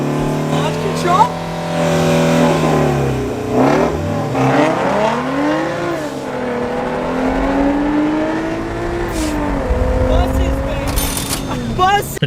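A V6 truck engine revs hard on launch control, pitch climbing and falling through several surges before the launch, loud and close, with a voice talking over it.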